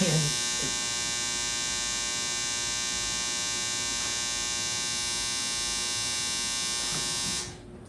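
A running clothes dryer gives off a steady electric hum and buzz that holds evenly for several seconds, then cuts off near the end.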